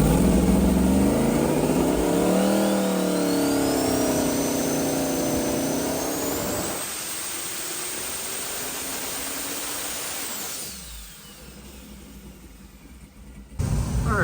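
Twin-turbo LS V8 on an engine dyno screaming through a high-rpm pull under heavy boost, loud and close with rising harmonics, then cutting off and dropping to a quieter roar and hiss at the end.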